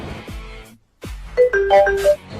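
A phone ringtone plays a bright, electronic melody of short repeated tones, following a brief pause after some background sound.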